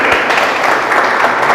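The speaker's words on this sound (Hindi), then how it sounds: "एक जोरदार ताली" A short, loud burst of audience clapping at an indoor training session, steady and close for under two seconds.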